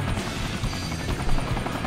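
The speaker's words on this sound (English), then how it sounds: "Oh man, I'm on a helicopter." A helicopter in the Sonic Generations video game, Speed Highway stage, drones loud and close with a continuous rotor whir and low rumble, no talking.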